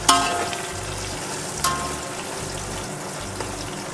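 Halved green chillies for a Hyderabadi-style pulav hit hot oil with a brief burst of crackle, then settle into a soft, steady frying hiss, close and moderate with a second small splutter midway, no voices.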